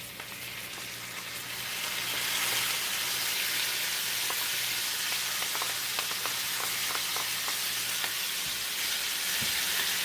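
Sausage frying in a pan gives off a steady, close sizzle that grows louder after the first couple of seconds and carries on without a break, with faint crackles on top.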